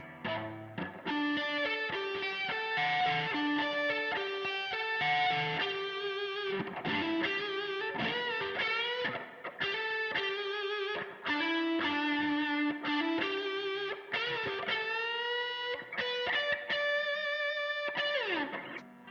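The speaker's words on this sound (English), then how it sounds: "this kind of gives you like almost a cranked Marshall type tone. It's really cool for leads." An electric guitar plays a sustained, singing lead line through a boost pedal into a cranked Marshall-style amp tone, with bent notes and smooth overdriven sustain, played alone without talk.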